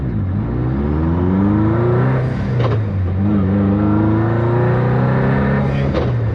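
A 517whp VW Bug engine revs hard as it accelerates through the gears, a loud close rising drone that drops sharply at each shift and climbs again, with no talking over it.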